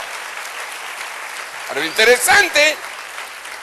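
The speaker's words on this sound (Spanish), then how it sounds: "Denle un aplauso al Rey bendito." An audience applauds during a Spanish-language talk, a steady wash of clapping heard throughout, with someone briefly speaking over it midway.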